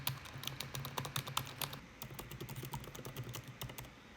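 Fingers type quickly on an Apple M1 Max MacBook Pro keyboard, a close run of soft, crisp key clicks in an irregular rhythm with no talking.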